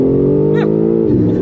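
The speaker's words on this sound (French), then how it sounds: "Il y a un petit V8 caché quand même dans ce moteur là" BMW M4 Competition six-cylinder engine revving loudly and close, a strong steady drone that drops in pitch near the end as the revs fall, with a brief chirp over it.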